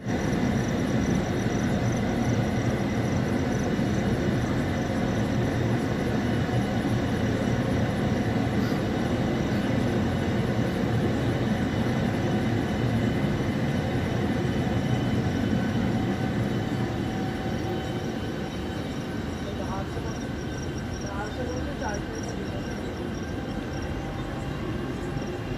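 A train departs Maski Junction on an overnight Indore to Jabalpur Covid-19 special service, and a steady, loud rumble of engine and carriages fills the whole stretch, easing slightly toward the end.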